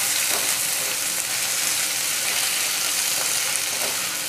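Onions frying in a pan for broiler chicken gravy, a continuous close sizzle with faint stirring scrapes and no voices.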